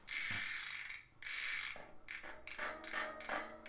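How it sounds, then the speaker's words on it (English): Freehub ratchet pawls on a Roam 30 bicycle wheel buzz in fast clicking bursts as the hub spins, loud and close, with several separate spins of varying length and no talk. "It's engaging, and you can hear it's got a few more clicks."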